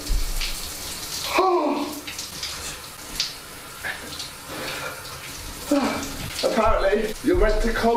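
Cold shower water running and splashing in a bathroom, a steady broadband rush that swells and dips, with a person talking and exclaiming over it.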